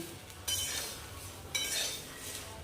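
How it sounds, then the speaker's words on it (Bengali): Puffed rice and peanuts heated in a little oil with dried chilli and cumin, stirred in a pan: two quick scraping, clinking strokes of a utensil against the metal, close and fairly quiet, with no talk. "এবার মুড়ি বাদামটা গরম করে নিচ্ছি একটুখানি তেলে ফ্রাই করে নিচ্ছি"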